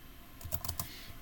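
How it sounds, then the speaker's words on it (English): Several quick keystrokes on a computer keyboard, clustered in a short burst of clicks, close and fairly faint, with no talking. "here I am in Google Docs, happily typing away"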